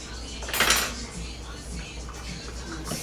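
A utensil stirs food in a pot in a home kitchen, giving one loud metallic scrape and clatter near the start, followed by softer clinks and rubbing against a steady background hum.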